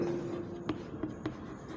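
Chalk or marker writing on a board during a physics lecture, with a few short scratchy strokes and taps spaced apart over a steady, quiet room tone.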